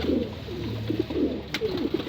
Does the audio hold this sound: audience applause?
no